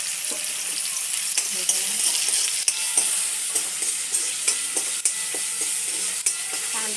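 Onion fries in a couple of spoons of hot oil in a pan for an egg recipe, with a steady close sizzle and frequent stirring scrapes and taps, while a voice speaks briefly.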